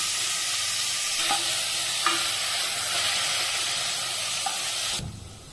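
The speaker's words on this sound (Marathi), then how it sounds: "आपण ह्याच्यात पहिला कांदा घालून हे परतून घेऊया।" Onion fries in hot oil in a kadhai with a loud, continuous close sizzle and a couple of faint stirring taps, before the hiss drops away abruptly near the end.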